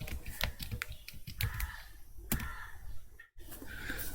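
Someone types an ADB command on a computer keyboard, giving a run of close, crisp key clicks in an irregular rhythm with a brief pause near the end.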